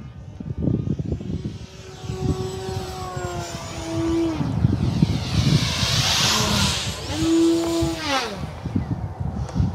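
A Horizon Hobby Timber X V2 RC plane flies overhead with full landing flaps, its electric motor whining and rising and falling in pitch as it passes, loud and fairly close, with outdoor wind noise.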